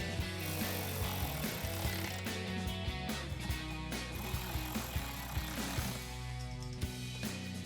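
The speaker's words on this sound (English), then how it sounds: "you can take a 10mm socket to tighten these down" A 10mm socket on a ratchet tightens the bolts of an aFe Magnum FORCE Stage-2 cold air intake on a Dodge Charger. Quick bursts of ratchet clicks repeat through the stretch over a steady tonal background.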